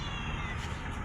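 A cat meows briefly near a Mekong riverside spot, a short close vocalization over steady low background rumble.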